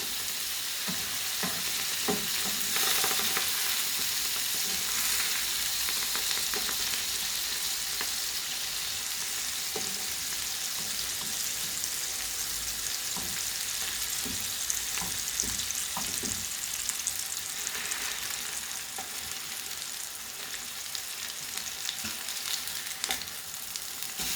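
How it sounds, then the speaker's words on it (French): Grated potato rösti fry in a pan with added pats of butter, producing a dense, constant close sizzle over a long stretch, with occasional faint clinks and scrapes and no speech. "je vais rajouter quelques parcelles de beurre pour aider mes rôstis à colorer"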